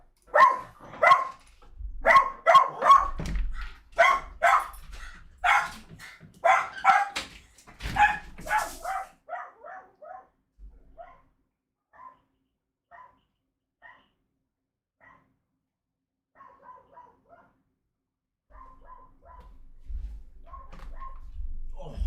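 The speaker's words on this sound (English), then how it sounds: "we did mute up, so you can hear the barking" Several dogs bark in loud, rapid bursts at first, then the barks thin out into quieter, scattered yips before fading away.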